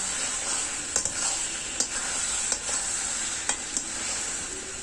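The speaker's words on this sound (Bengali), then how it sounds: "এটা দেশি মুরগি, সেই জন্য এটাকে 40 থেকে 50 মিনিট ভালো করে কষে নিতে হবে" Desi chicken stir-fried in a pot, a steady loud hiss of frying with occasional sharp scrapes and clicks of the spatula against the pot, close and without voices.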